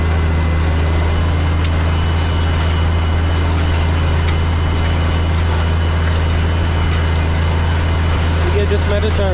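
A tractor engine pulls away in first gear, a steady, loud, low diesel drone that holds an even rumble throughout.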